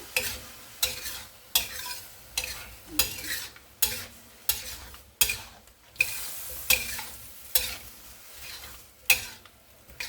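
Egg stirred into noodles with roasted pork and cabbage in a hot pan, sizzling steadily under a regular rhythm of utensil strokes scraping and tossing, about one stir per second, close and alone.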